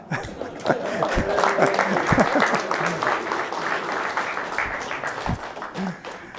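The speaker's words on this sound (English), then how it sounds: "Now you can clap." Audience clapping at a radio club meeting in a room, a sustained patter of many hands, moderately loud, with scattered voices and a few remarks mixed in underneath.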